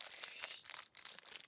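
An orange plastic bag holding a Labubu Fanta collectible toy is torn open by hand, giving close, faint crinkling and tearing bursts with a short pause midway.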